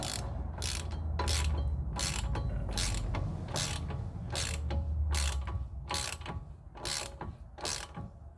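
Ratchet clicking in repeated quick bursts, close and fairly loud, while tightening the front axle ball joint on a 2005 Ram 1500, with a low mechanical hum beneath.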